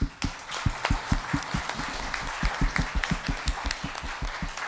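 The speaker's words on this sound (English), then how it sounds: "Can we have a massive round of applause, please, to Priscilla, Claudia, and Duilia" Steady applause from an audience, dense overlapping claps throughout.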